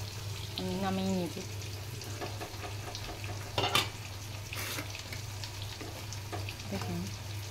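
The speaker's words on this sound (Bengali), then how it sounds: "এই দিয়ে মাছ ভাজাটা ধীরে ধীরে হতে থাক" Fish fries slowly in a pan, a low steady sizzle running under a mostly quiet kitchen, with a steady hum, brief clatters and a short voice near the start.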